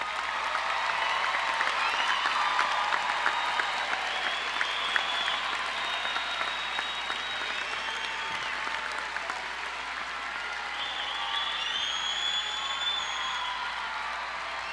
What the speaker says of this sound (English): I think that all of the graduates today deserve a round of applause.